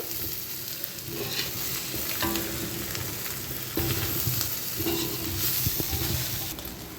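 Mutton head curry with chili powder is stirred in a hot pan, a steady close sizzle and frying hiss broken by scraping strokes of the spoon, continuous throughout with no voices.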